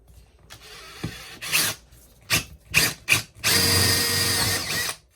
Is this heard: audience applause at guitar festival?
no